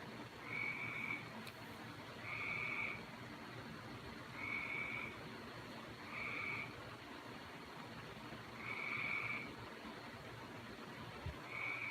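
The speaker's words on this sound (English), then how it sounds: "Yeah, the frog is still out there," Regular trilling frog calls repeat every couple of seconds against a steady night-time background, fairly distant and moderately loud.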